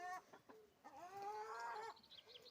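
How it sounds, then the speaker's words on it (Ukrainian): Hens cluck close by, a short burst followed by a longer drawn-out cackle, fairly quiet with no talking. "Ось такі в мене курочки."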